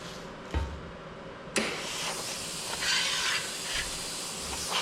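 A plasma cutter cuts steel at 50 amps with a steady broadband hiss while an air compressor runs, starting with a sharp onset and continuing close and loud with no talk.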